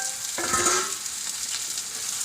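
Spice powders of chili, coriander, turmeric, fennel and homemade masala fry with tomato and onion for egg roast, a steady close sizzle with a brief stirring scrape early on.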